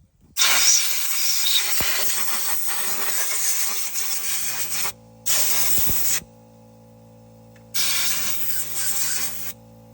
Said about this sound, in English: trying to blow some of the dust off the engine here